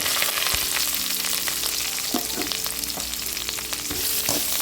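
Onions, chillies and curry leaves sizzle loudly in hot oil with mustard seeds and fenugreek, a dense continuous crackle close by with occasional spoon scrapes and pops.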